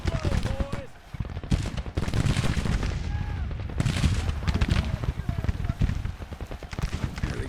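Dense volleys of rifle and musket fire from Civil War troops in Grand Tactician: The Civil War, with rapid overlapping shots crackling continuously over a low rumble and scattered voices.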